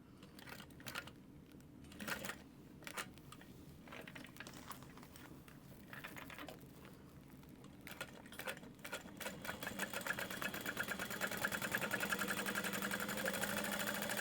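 A sewing machine runs a small box stitch on a backpack-style bag, starting with a few short, quiet bursts and then settling into a steadier, faster run of stitching that builds toward the end.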